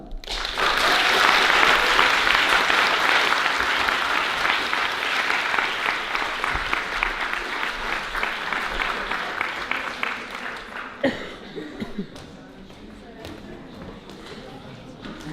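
Strong applause from a live audience swells at the start and fades gradually over about ten seconds, thinning to scattered claps and a few thuds before a voice begins speaking.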